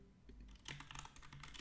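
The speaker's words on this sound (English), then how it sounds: "I'm also typing it into Discord chat." Typing on a computer keyboard into a Discord chat, a brief, faint flurry of rapid key clicks, close and alone with no voices.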